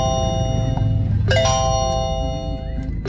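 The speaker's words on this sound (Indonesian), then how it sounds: "Ini bunyi mulu, in-driver bunyi mulu loh." A phone running the inDrive ride-hailing app gives a short, bright notification chime that rings twice over a steady low hum inside a car.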